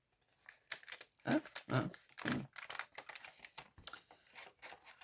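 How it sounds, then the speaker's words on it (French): A recycled paper envelope is opened for gluing, with a series of close papery rips and crackles in uneven bursts; someone briefly says a couple of words. "Je vais ouvrir mon enveloppe et la coller la coquine"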